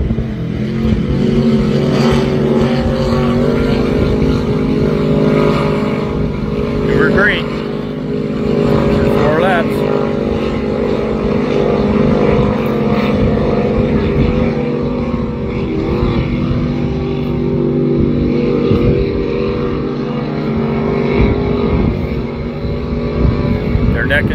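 Loud, steady engine roar of racing motorboats in a heat at Beach Haven, a continuous droning whine filling the whole stretch with a voice talking underneath.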